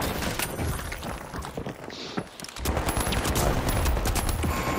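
Rapid gunfire from The Finals comes in dense, loud bursts close up, broken by a brief pause before the shooting resumes just as heavily.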